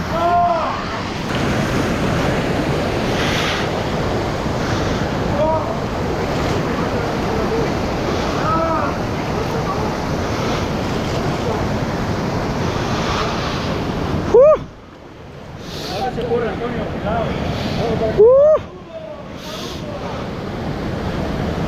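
Icy, near-freezing river water rushes during a barefoot crossing on a dangerous fishermen's trail, a loud, steady, close roar with brief handling bumps around the middle and faint voices mixed in.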